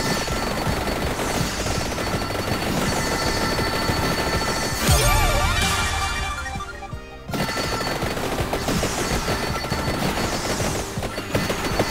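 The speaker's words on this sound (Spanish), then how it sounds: "Esto ya por sí solo crea explosiones" Dense rapid bursts of explosions from the video game Vampire Survivors, layered over steady game music and effects, with a brief quieter break midway before the barrage resumes at full loudness.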